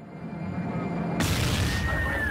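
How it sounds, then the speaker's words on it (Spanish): A sudden loud burst halfway through, followed by a sustained broadband roar and hiss that lingers, with a faint tone running underneath: an explosion aboard an airliner in flight, causing sudden cabin decompression. "se produce una explosión"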